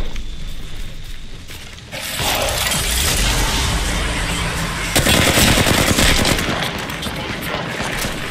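Dense, loud automatic gunfire from the Apex Legends battle royale game, a sustained rattling fusillade that swells after a couple of seconds and stays continuous, with no talk over it.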